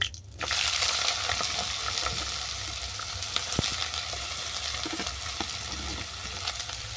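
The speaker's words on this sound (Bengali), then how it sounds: "এটাকে আমি ভালো করে ভেজে নেব" Steady sizzling of gourd peel and chopped potato frying in hot oil, with occasional stirring scrapes and clicks against the pan, continuous and close.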